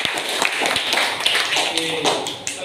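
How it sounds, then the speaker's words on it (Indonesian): Classroom students clapping for a group, scattered uneven claps close by, with a teacher's voice talking over them. "tepuk tangan kelompok 2"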